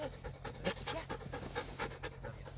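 Sled dogs at a race checkpoint panting steadily and rapidly at close range, a continuous rhythmic breathing with no talk over it.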